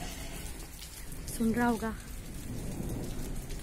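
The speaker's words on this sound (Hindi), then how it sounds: "बादल गरज रहे हैं" Steady rain falls outside a house with a vegetable garden, a constant broadband hiss with low rumbling from thunder, while someone briefly speaks near the middle.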